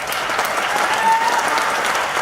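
An audience at a lifestyle information training session applauds, with dense, steady clapping that holds at an even level throughout.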